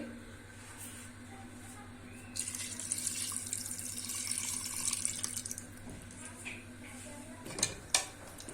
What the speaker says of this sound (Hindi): इस मसाले को, पानी को हम कुकर में डाल देंगे।